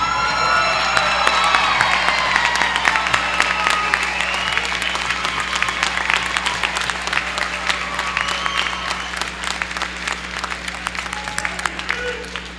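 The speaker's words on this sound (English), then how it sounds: "Audience, please stand and applaud our new graduates" A graduation ceremony crowd stands and applauds the class of 2014, a long, loud stretch of clapping mixed with cheers, whoops and scattered shouts, fading slightly toward the end.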